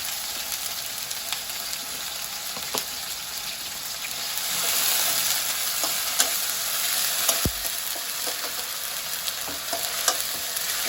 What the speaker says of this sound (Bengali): এটাকে এখন কিছুক্ষণ ভাজতে হবে